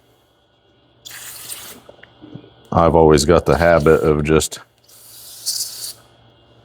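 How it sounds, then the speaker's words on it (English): Two short hissing bursts from an aerosol can spraying around a hydraulic cylinder gland, one before and one after someone talks briefly up close. "spraying this stuff around the gland just in case there's any issues"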